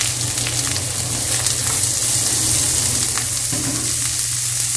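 Onion and garlic fry alongside seared chicken in a pan, giving a steady close sizzle with scattered pops and a stir or two.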